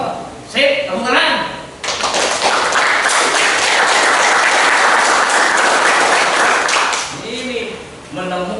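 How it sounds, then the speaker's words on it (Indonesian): A classroom group breaks into dense applause and clapping during a lesson, loud and sustained for about five seconds, with a voice talking before and after. "tepuk tangan."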